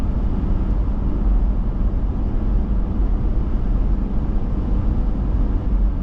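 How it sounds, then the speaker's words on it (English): Steady low tire rumble of Rocky Mountain all-terrain tires on a 4Runner cruising at 65 mph on a backcountry highway, a constant dense droning hum from inside the cabin with no breaks or talk. "We're going to test out the road noise on these tires."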